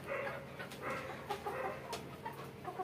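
Tiger chickens on a farm cluck in a soft, steady murmur, with short rising calls scattered over the background and no talk.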